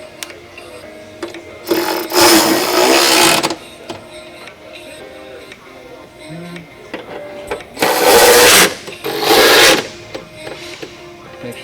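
A power tool drives screws to fasten side steps onto a truck, three loud bursts of whirring that each last about a second or two, with quiet gaps and faint background noise between them.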